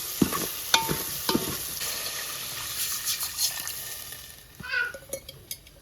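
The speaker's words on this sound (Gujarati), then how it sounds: "હવે હલાવવાનું છે. આવી રીતના હલાવવાનું છે." Maggi noodles with masala being stirred in a pan, with utensil clicks and scraping over a soft sizzle, and a cat meowing briefly near the end.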